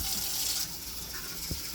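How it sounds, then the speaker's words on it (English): Cold water runs from a tap into a sink in a goat-milking setup, a steady hiss and splash with a small clunk near the end and no voices. "So rinse it out with cold water"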